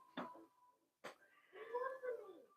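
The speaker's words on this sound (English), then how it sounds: "He's just a very vocal kitty." A talkative pet cat meowing indoors at home, a couple of short sharp calls followed by a longer drawn-out, wavering meow, fairly quiet and close with no voices.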